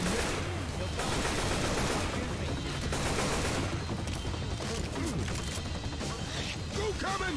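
Dense, continuous gunfire fills a Left 4 Dead 2 firefight, with near and overlapping shots all the way through and constant background noise.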